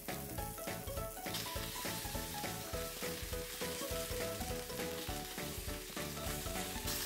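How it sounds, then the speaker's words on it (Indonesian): Chicken pieces sizzle and crackle steadily in a pan of hot oil over medium-low heat, a dense, continuous frying hiss heard close with no voices. "Kita goreng sebentar aja sampai tiap sisinya itu golden brown"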